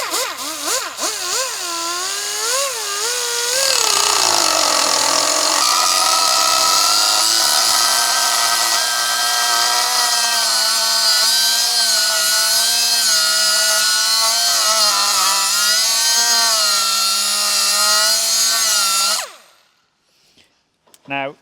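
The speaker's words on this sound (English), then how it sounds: "Or my air grinder. What should I use? Air grinder?" An air grinder on an Audi R8 part screams loud and continuous for about nineteen seconds, its whine wavering in pitch at the start, then it cuts off abruptly to near silence.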